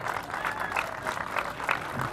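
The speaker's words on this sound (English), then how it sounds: "let's give another round of applause for Noah and the library team" An audience at a library rooftop terrace ribbon cutting applauds, a dense steady patter of many hands clapping at moderate distance for the whole stretch, with no voice standing out above it.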